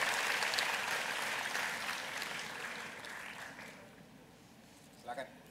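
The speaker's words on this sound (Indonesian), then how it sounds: "Tepuk tangan untuk Pak Erlangga." Audience applause for Pak Erlangga at a national climate dialogue event, a broad steady clapping wash that slowly fades over several seconds, with a brief voice near the end.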